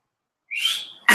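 A person whistles a single rising then falling note, clear and close, lasting about half a second before a burst of other noise cuts in.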